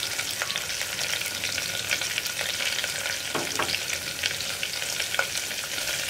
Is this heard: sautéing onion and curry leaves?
yes